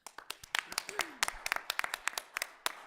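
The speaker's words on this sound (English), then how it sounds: "join me in giving our firefighters a hand of applause" A small city council audience applauds firefighters with sparse, distinct hand claps spread over a few seconds, close and moderately loud, with a brief voice sounding among them.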